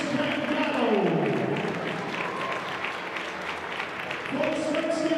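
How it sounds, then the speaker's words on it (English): A high school hockey game crowd in an arena applauds seniors, a steady wash of clapping and cheering under a public-address announcer speaking over it. "let's give one more big round of applause to our 6 seniors and their families"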